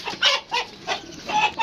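A rooster clucks in a quick series of loud, close calls, four or five short bursts in an uneven rhythm.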